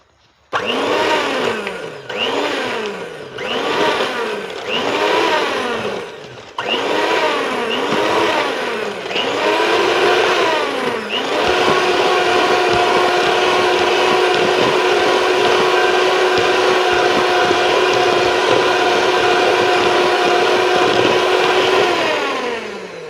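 Electric mixer beating gnanakatha batter: loud whirring motor with repeated rising-and-falling pulses in the first half, then a steady continuous high whine until it winds down at the end.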